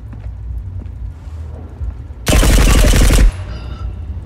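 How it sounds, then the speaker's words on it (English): A single burst of rapid automatic gunfire in the extraction shooter Marauders, loud and close, about a second long and standing alone against quiet background. "Can you shoot your gun once?"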